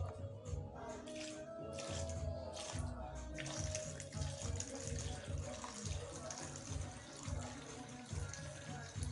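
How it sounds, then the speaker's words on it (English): Isopropyl alcohol poured into a homemade spirit-based antiseptic disinfectant mixture makes a quiet, continuous trickling and splashing of liquid, with soft voices in the background. "So I'm adding my IPA right now."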